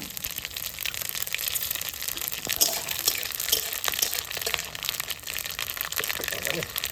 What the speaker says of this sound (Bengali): আমার কড়াই গরম হয়ে গেছে এবার আমি ফোড়ন দেব ফোড়নে দেব জিরে